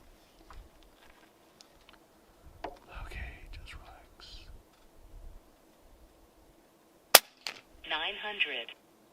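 An Air Arms S510XS Stealth Carbine .177 air rifle on high power fires a JSB pellet with one sharp, close crack, followed by faint rustling and soft murmured voices.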